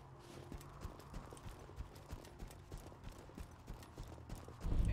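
Horse hooves clip-clop steadily in a video game, a pony made of diamonds trotting in an even rhythm over a busy game soundscape, with a louder burst of noise at the end.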